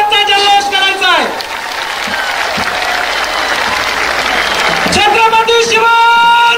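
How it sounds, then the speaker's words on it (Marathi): A large crowd at a traditional Dasara Melava rally bursts into loud, sustained applause and cheering for Manoj Jarange's entry onto the main stage, with an amplified announcer's voice before and after. "आपण सगळ्यांनी प्रचंड टाळ्यांचा जल्लोष करायचा आहे"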